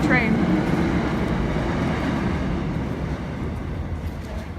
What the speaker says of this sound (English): There goes another train.